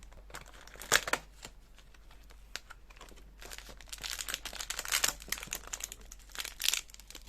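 Crinkling plastic packet being handled and torn open, bursts of crackling rustle coming and going, close and fairly quiet, no talking.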